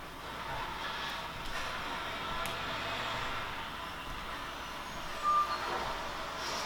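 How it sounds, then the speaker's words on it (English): Garbage trucks rumble by outside open windows, a low muffled engine roar with faint squeals and a brief high beep, distant and steady throughout. "I hear the trucks, my windows are open, so I apologize if you hear them screeching by."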